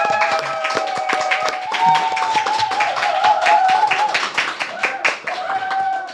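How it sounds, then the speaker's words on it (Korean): An audience applauds at a live talk-show event, a dense run of hand claps holding steady for several seconds while voices carry on over the clapping. "박수."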